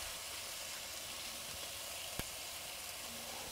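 Hamburger patties frying in a pan inside a campervan, a faint steady sizzle under a lid with a couple of small clicks, no talk.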